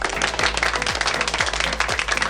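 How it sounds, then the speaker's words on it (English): An applause preset on a 7RYMS 7Caster SE2 sound pad plays dense, steady crowd clapping, with a thumping background beat pulsing about every half second beneath it. "Applause"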